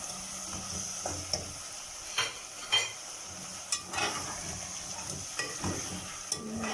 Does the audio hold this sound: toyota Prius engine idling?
no